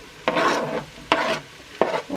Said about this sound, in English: So I'm popping that chicken in.